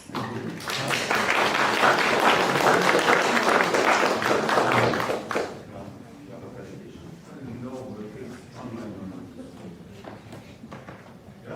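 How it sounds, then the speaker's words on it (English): Audience applause for teams at a hackathon final day, a steady wash of clapping for about five seconds, then fading into room murmur and a voice speaking. "a warm welcome and an applause for the teams"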